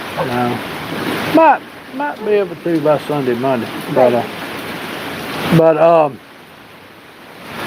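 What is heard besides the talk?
rain shower at night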